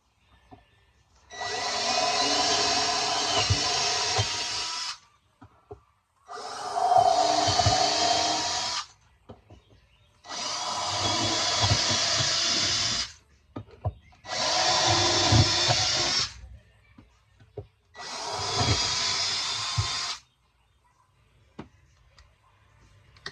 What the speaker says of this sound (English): now I'm going to go ahead and drill the rest of my holes